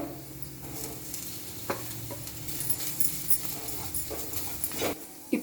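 Boiled, peeled and smashed potatoes stirred into a pan for samosa stuffing, a soft sizzle under repeated scraping and stirring strokes, fairly close, with faint background noises and no speech.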